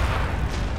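Heavy cannon fire in the video game Napoleon: Total War, a dense, loud rumbling boom that fills the whole moment with no gaps, close and overwhelming.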